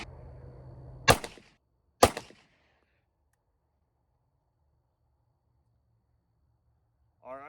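Two loud, sharp 9mm pistol shots from a SAR B6 firing Hornady XTP hollow points at an outdoor range, about a second apart, followed by quiet with low background hum and a brief voice at the end.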